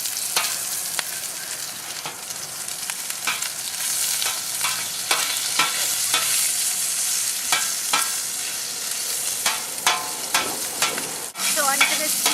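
Mild Italian sausage searing in a wide paella pan, a continuous bright sizzle punctuated by repeated sharp scrapes and stirs of a utensil against the metal, close and loud throughout.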